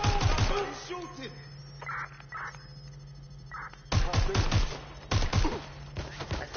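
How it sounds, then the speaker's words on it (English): Gunfire in the Watch Dogs Legion video game: bursts of sharp shots, some rapid like a fusillade, clustered at the start and again in the second half, with talk in between. "Somebody's shooting!"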